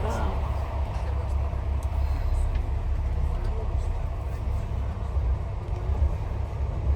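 Steady low rumble of the Flåm Railway train heard from onboard, a continuous loud rolling drone with faint clatter throughout.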